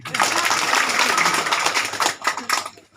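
A crowd claps hands continuously and fairly loudly during a festive welcoming procession for a Sumba Christian church pastor candidate, a dense patter of many hands that thins into a few scattered claps at the end.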